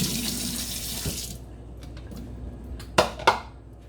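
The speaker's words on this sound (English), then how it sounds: "Just rinsing the potatoes off in some water." Potatoes rinsed under a running kitchen tap, steady water splashing into the sink that stops, followed by quieter movement and two sharp clunks of the potatoes or a pan.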